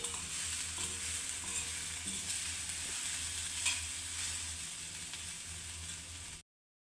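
Manohara being stirred and mixed in a frying pan, with a steady sizzle of frying and soft scraping of the spoon running throughout at an even level before stopping abruptly.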